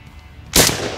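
An ATI Bulldog shotgun firing low recoil ammunition outdoors at a range, a single loud close blast after a quiet moment, followed by a second shot starting right at the end.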